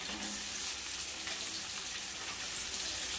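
Sliced onions frying in a pan for a spicy Bengali chicken curry, a steady dense sizzle held at even loudness throughout with no talking.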